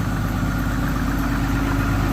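A diesel fuel heater runs with a steady, even mechanical drone, constant and unbroken at close range, with no voices over it.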